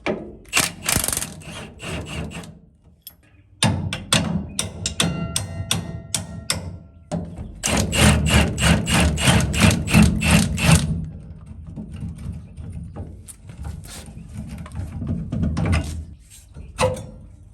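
Hand tools and a rattling impact wrench work loose the rear shock absorbers on a 1999-2006 Chevy Silverado, bursts of rapid mechanical chatter and clanking alternating with quieter scraping and handling noises, close and fairly loud.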